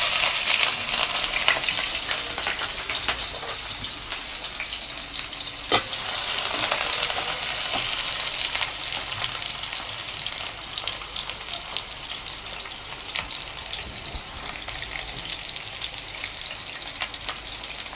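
Onion, garlic and spices fry in a hot pan for a cauliflower dish, giving a steady, fairly loud sizzle with occasional crackles and a brief surge partway through, with no voices.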